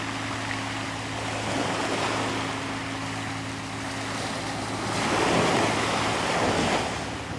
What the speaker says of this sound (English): that's why we're having some wave action